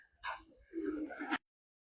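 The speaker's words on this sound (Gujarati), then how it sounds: "એટલા કબૂતર છે ને અહીંયા" Pigeons at a roadside spot give two short bursts of cooing, close and moderately loud, then fall silent.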